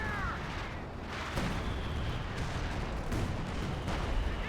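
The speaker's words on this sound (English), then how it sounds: "he's locking in his first barrage here with the breeze" Artillery barrage in a competitive strategy video game, a rumbling run of distant booms and thuds with a few sharper impacts, no voices over it.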